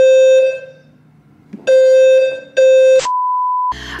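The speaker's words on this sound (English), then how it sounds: "My building was doing like a alarm test to make sure everybody's alarm is working in case there's a fire." A building fire alarm under test sounds in loud, steady electronic tones, with several sustained beeps broken by short pauses, then a held higher tone and a harsh buzzing burst at the end. No one speaks.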